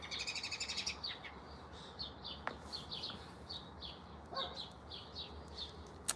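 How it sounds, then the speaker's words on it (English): Small birds chirp and tweet outdoors in quick repeated bursts, faint and somewhat distant, with short gaps between calls against a quiet, hissy background. "the live picks up the birds because they're really not that loud"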